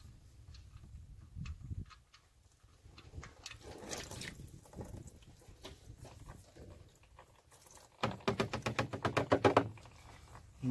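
Water splashes and trickles out of a C7 Corvette engine, building into a rapid patter of spilling liquid near the end, with faint background rumble.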